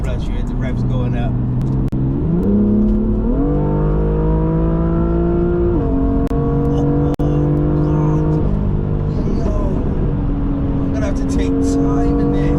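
Tuned BMW M2 with Stage 2 Plus engine in Sport Plus, heard from inside as a loud steady engine drone climbing through several stepped rev rises and shifts, with a voice speaking over it.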